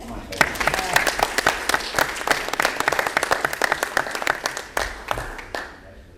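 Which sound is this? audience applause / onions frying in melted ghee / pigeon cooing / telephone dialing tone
audience applause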